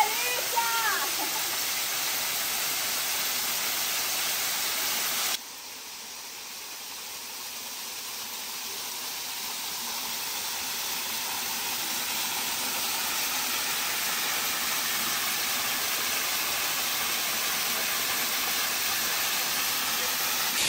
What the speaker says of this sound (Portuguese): As quedas d'água.